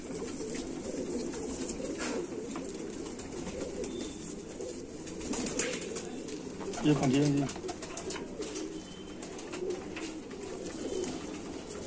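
Pure dark-eyed pigeons coo softly in a loft, low burbling calls rising briefly in the middle under someone speaking close by.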